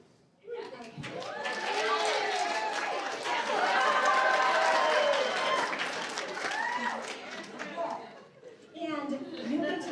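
A group of children cheering for their teams in a bubble-making competition, a lively burst of shouting, chatter and giggling that rises quickly, holds loud, then trails off into scattered voices.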